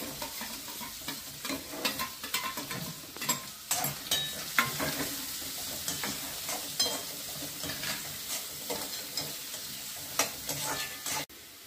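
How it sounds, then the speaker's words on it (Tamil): Onion and browned urad dal fry in hot oil for a radish stir-fry, a steady close sizzle broken by frequent scraping strokes of a spoon stirring through the pan. "இந்த வெங்காயத்தை போட்டு அதையும் நல்லா வறுத்துங்க."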